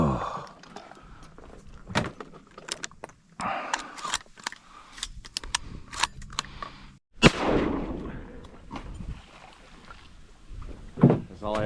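Shotgun fired while duck hunting in a Minnesota marsh, a few loud, sharp blasts spread across the clip amid wind, rustling and knocking from a boat, with people speaking briefly.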